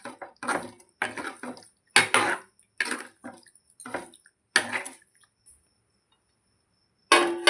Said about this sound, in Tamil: இப்போ நம்ம நல்லா கிளறி எடுத்துக்கிறோம்.